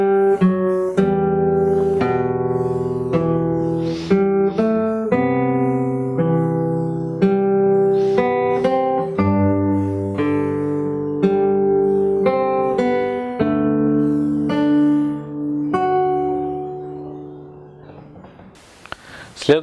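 Fingerstyle acoustic guitar plays a phrase of a piece, played solo with clear plucked notes and sustained chords that let ring throughout, fading at the end.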